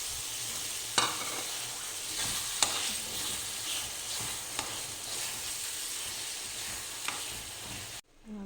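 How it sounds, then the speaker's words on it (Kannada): Smashed rajma frying in oil with tomato in a pan, a constant close sizzle broken by several sharp scraping clicks of a spoon stirring, ending in a brief dip to quiet. "ಈಗ ಸ್ಮ್ಯಾಶ್ ಮಾಡಿರೋ ರಾಜ್ಮಾ ಹಾಕ್ತಾಯಿದ್ದೀನಿ"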